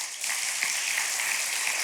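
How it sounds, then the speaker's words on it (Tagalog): Church congregation applauding at a Father's Day service, a steady wash of many hands clapping at moderate distance, fairly soft and even after a brief quieter start. "nahihiya yata kayong ibigay yung the best na palakpak"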